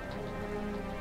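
Steady rain from a motorsport racing management video game, a dense patter of drops falling evenly on surfaces, moderately loud and continuous over one brief second with no speech.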